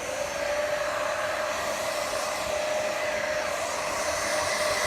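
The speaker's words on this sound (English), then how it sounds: "If you guys have a cheaper, older hair dryer that you guys don't mind using for your painting" A hair dryer blows steadily and close by while drying paint on a DIY bunny figure, a constant loud whoosh with a steady motor whine and no talking.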